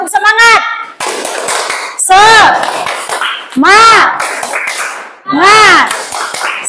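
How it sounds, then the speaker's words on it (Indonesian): A classroom of children performs the tepuk semangat rhythmic clapping chant, with loud chanted phrases alternating with brisk bursts of group hand clapping, close by and in a steady rhythm. "coba tepuk semangat"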